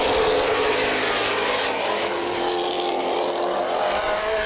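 Late Model race cars at Baer Field Speedway roar together in a steady, dense engine drone with a rising pitch, loud and continuous throughout.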